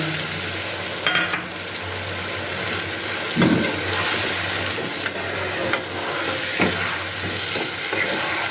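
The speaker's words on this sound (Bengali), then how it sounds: "দিয়ে খুব ভালো করে নাড়াচাড়া করে নিচ্ছি" Coriander chicken curry being stirred in a pan after ground coriander leaves and a little water are added, a steady close bubbling sizzle with occasional scrapes and knocks of the spoon, no talking.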